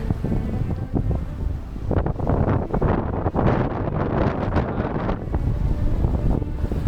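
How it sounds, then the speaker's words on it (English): Strong wind buffets a sailing boat under autopilot, a loud continuous roaring gust noise with rushing water and pounding sea mixed in. "Huge wind. The autopilot is coping."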